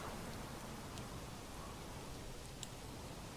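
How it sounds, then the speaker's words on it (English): Steady rain falls in the medieval city-building game Manor Lords, a soft, even hiss of drops with a few faint patters, quiet and continuous with no other sounds. "This rain is tumbling down."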